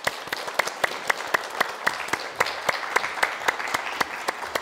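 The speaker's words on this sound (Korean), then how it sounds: "박수 부탁드립니다." Audience applause welcoming a guest speaker at a parenting talk concert: a small crowd's hand claps, individual sharp claps distinct and fairly close, steady for a few seconds with no speech.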